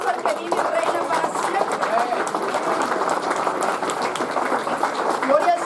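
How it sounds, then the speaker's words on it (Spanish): A church congregation claps together in sustained, steady applause that holds for several seconds, filling the room at an even loudness. "Por qué no le dan un aplauso al que vive y reina para"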